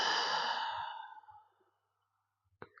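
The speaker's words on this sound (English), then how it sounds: "breathing in through the nose and out through the mouth" A single long breath goes out through the mouth during a gentle yoga practice. The exhale is soft, airy and close, fades over about a second and a half, and is followed by quiet.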